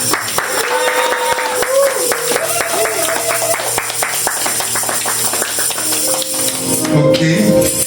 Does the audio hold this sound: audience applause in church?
yes